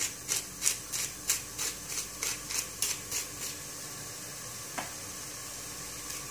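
Onion and meat fry in a pan with a steady sizzle, while a spoon scrapes and stirs in a quick regular rhythm of about ten strokes, then the sizzling carries on alone.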